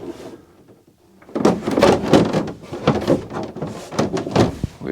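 A new door card is pressed onto the inside of a VW Transporter T5 van door, held by fir tree clips. After a quiet start come dense, close plastic knocks, clicks and thumps in rapid succession.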